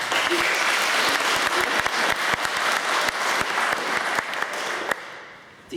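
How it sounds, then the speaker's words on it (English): An audience claps for the debate teams at a Year 8 grand final, a dense sustained round of applause with sharp individual claps standing out, then tapering off near the end. "I think another round of applause."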